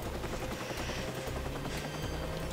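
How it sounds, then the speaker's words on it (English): A police helicopter in the video game Watch Dogs gives a continuous rotor chop over a steady whine, fairly quiet and without talk. "Hopefully that chopper will lose me on that."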